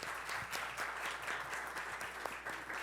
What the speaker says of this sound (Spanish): yo quisiera un aplauso todavía más fuerte para doña Susana y Gabriel